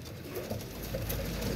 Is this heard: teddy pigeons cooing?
yes